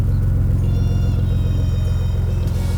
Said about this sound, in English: I'm going to start it up for you right now. It's a way nicer tone than what came from the factory.